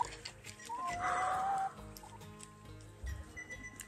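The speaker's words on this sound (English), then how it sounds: "I've just come to check on the chickens." Chickens on a spring farm clucking, with one clear drawn-out cluck standing out among faint scattered bird sounds and quiet outdoor background.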